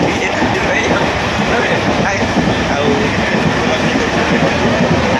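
A moving passenger train near Nayagarh rumbles continuously with a steady roar and faint rhythmic rattling, heard from inside or close by, with voices murmuring underneath.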